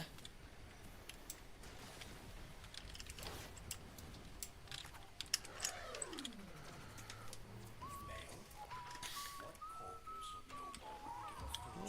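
A small owl in the game Warframe gives soft cooing calls amid ambient wildlife chatter and clicking, a faint, gliding call drawn out over a few seconds in a quiet outdoor scene.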